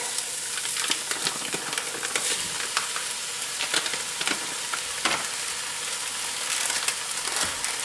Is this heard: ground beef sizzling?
yes